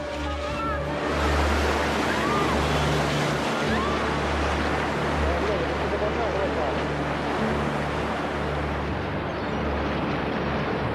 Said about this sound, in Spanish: No es una simple ola. Es una sucesión de olas que seguirán llegando durante muchas horas